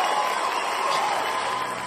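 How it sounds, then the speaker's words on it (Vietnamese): Dense, steady applause from an audience at a Vietnamese singing show fills the whole moment, a continuous wash of clapping without pauses. "cho bọn em một tràng pháo tay đồng ý"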